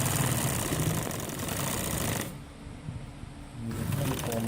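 A sewing machine stitching along the collar edge of a gents' kameez hums in a quick, close rattle, pauses briefly for about a second, then starts up again.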